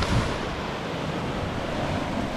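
Ocean surf washes in along the rocky shore at Rockport, Massachusetts during bluefish fishing, a loud, steady rushing wash mixed with wind buffeting the microphone.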